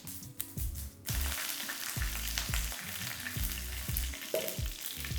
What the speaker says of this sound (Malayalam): വെളിച്ചെണ്ണ ചൂടായി കടുക് ഇട്ട് കൊടുക്കാം.